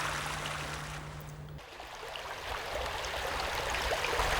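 The River Dodder rushes below Dodder Gorge, near the first stone bridge at Castle Kelly, as a steady broadband roar of flowing water. A low hum drops out partway through, and the river continues alone.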